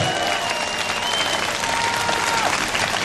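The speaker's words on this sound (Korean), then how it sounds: "뜨거운 박수 한번 보내주시기 바랍니다." Steady, dense applause from a large crowd at an outdoor national rally near Seoul Station, continuous and loud throughout with a faint musical tone beneath.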